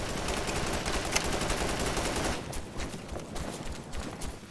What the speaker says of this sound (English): We're taking heavy fire here.